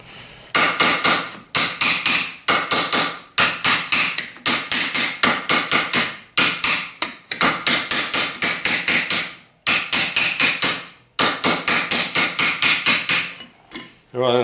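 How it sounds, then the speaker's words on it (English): Loud, rapid hammer blows on a metal lathe spindle in repeated bursts of rhythmic strikes, ringing sharply, with brief pauses between volleys. "I'm going to keep hammering."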